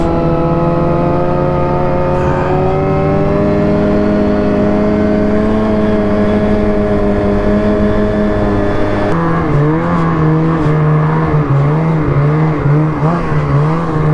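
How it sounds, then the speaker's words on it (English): Loud snowmobiles ride down a snowy trail, their engines droning steadily up close and rising in pitch, with a shift to a higher, wavering revving partway through. "With these loud-ass snowmobiles, I doubt there's anything down here."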